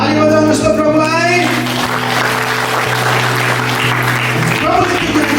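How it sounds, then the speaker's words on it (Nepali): A congregation at a church service claps in praise, giving loud, continuous applause mixed with voices and music. "ताली बजाउनुहोस् त प्रभुलाई।"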